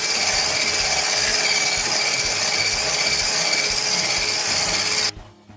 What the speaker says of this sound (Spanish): Mezclamos y empezamos a batir.